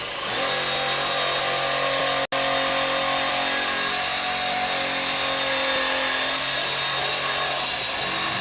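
A power drill bores into a Pump It Up dance pad, a continuous high whine held steadily for several seconds with one brief cut-out partway through.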